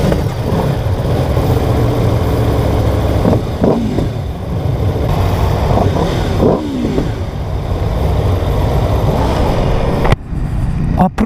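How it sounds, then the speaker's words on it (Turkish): An Aprilia RSV4 RF motorcycle with a 65-degree V4 engine is ridden on the road, giving a loud, continuous, throaty engine roar with rising and falling revs under heavy wind rush. "Aprilia RS4 müthiş. Müthiş bir motor, müthiş bir ses."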